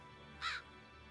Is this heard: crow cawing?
yes